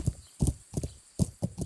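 Horse hooves in the video game Kingdom Come: Deliverance clop in a steady walking rhythm, several paired thuds close and fairly loud with brief gaps between, no talk over them.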